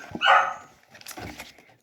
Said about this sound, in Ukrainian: Боже, собака не може угомонитися